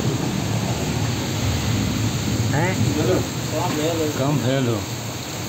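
Heavy monsoon storm rain, a steady broadband downpour with wind, runs continuously through the scene while several people talk over it close by.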